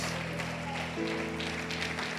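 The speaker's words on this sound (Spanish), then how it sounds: "Alguien levante ese aplauso de victoria." Church congregation applauding during a lively Spanish-language service, steady broadband clapping under sustained musical tones from instruments, moderately distant and continuous throughout.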